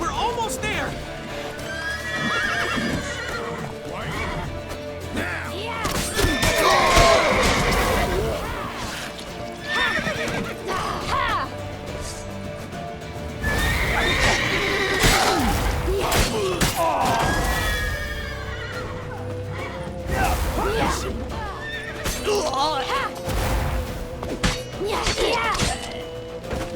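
Horses whinny and neigh repeatedly in The Witcher 3, with clip-clop hooves and thuds from a chaotic game scene, and loud shouted voices talking over much of it.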